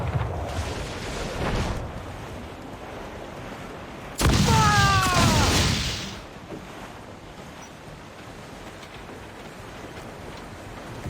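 Ship cannons fire in the Xbox 360 game Assassin's Creed IV: Black Flag: a soft rumble comes first, then one loud, close boom that rolls on for about two seconds before fading into background noise.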